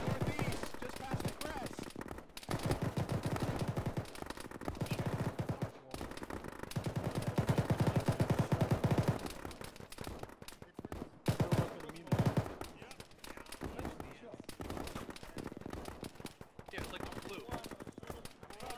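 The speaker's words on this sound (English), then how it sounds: "I shot this dude 4 times." Rapid gunfire from a military shooter game, Arma, during a ShackTac squad session: sustained automatic bursts and scattered single shots crackle almost without pause, mid-distance, with radio-style voices talking underneath.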